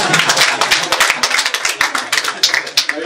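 Dense, sustained clapping from a church congregation greeting a man named Mabure, many hands slapping in a fast irregular patter that stays loud and steady throughout.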